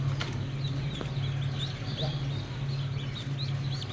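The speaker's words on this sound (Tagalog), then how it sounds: "maglalabas po tayo ngayon ng mga pisa nating Peking duck" Newly hatched Peking ducklings peep in quick, high chirps, many voices overlapping close by, over a constant low mechanical hum.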